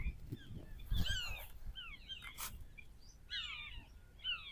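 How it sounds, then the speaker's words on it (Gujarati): Sparrows at a dam, giving a string of quick, high chirps and twittering calls that come in short bursts over faint background noise, fairly close but soft. "અહીંયા ચકલા પણ છે,"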